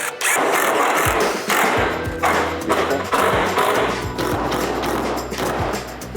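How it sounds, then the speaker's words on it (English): A power drill drives short lap screws through a sheet metal ridge cap on a DIY building kit: repeated loud bursts of whirring and rattling metal with thuds between them, close up, with no talking. "we're taking our lap screws, which is the short screw that comes with your kit, through the sheet metal"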